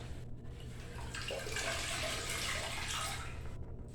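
Water running from a tap into a sink for rinsing, a steady broad rushing stream that swells after a moment and then cuts off near the end, no one speaking.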